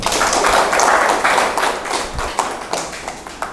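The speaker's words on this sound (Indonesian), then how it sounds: "Tepuk tangan semuanya." A room of participants at an Indonesian teacher certification session claps together, loud and close, the dense clapping gradually thinning into scattered claps.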